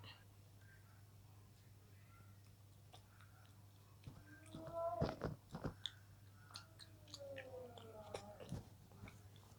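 Swiss chocolate being chewed close up, quiet at first, then a cluster of crisp crunchy bites and wet chewing with a faint steady hum underneath.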